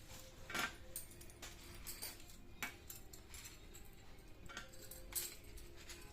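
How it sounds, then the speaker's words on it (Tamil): Antique glass bangles clink and chink together as they are mixed by hand, a faint, scattered series of light glassy taps spread across several seconds with soft background noise. "பாருங்க, இன்னும் இதெல்லாம் ஆன்டிக் பேங்கிள்ஸ்லாம் மிக்ஸ் பண்ணிக்கிறேன்."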